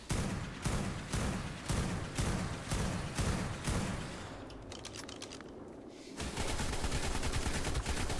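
Rapid, repeated gunfire from a weapon in the video game Ark: Survival Evolved, Scorched Earth map, with dense bursts of shots, a short lull, then heavy firing resuming loud and close.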